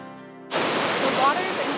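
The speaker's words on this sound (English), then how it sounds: "Burney Falls is the second waterfall of the day." Roar of Burney Falls, a waterfall about 100 feet tall fed by the McCloud River, breaking in suddenly as a loud broad steady rush of falling water after a brief quieter tonal passage.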